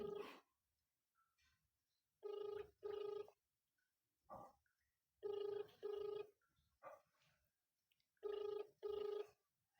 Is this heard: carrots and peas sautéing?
no